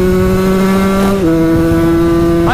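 A Mercedes A-Class car engine holds at a high, steady rev against the limiter, its pitch dipping briefly midway before climbing again, loud and close.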